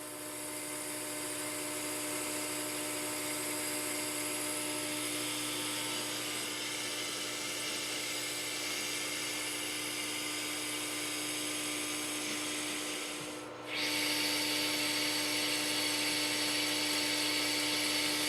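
Metal lathe or mill taking a 50-thousandths cutting pass on a laser seam welder fixture, a steady high whine with constant hum, briefly dropping before resuming louder.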